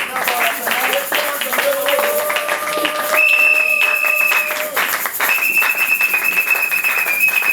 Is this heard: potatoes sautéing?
no